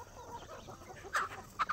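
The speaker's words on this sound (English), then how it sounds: "See the chickens that are full?" Homestead chickens clucking nearby, a few soft, scattered clucks and short squawks, quiet and fairly close, with no talking.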